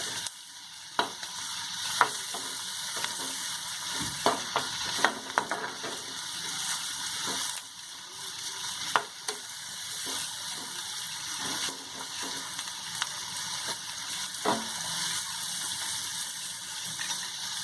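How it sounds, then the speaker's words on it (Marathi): Onions and garlic fry steadily in a pan for a Malvani-style sea fenugreek dish, a continuous soft sizzle broken by scattered scraping stirs and clinks, with no talk. "कांदा आपल्याला चांगला लाल करून घ्यायचा आता"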